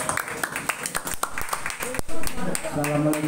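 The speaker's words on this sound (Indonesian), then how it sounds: "Tepuk tangan untuk Saudara Mbah Yo" Audience clapping at an Indonesian talk show on the environment, a dense burst of hand claps under an announcer's voice, ending in a louder swell.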